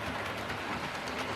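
A model train running on track under a small Hornby controller, a steady close rolling rumble with light rhythmic clicking, heard alone without talk.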